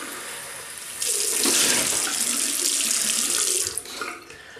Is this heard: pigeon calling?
no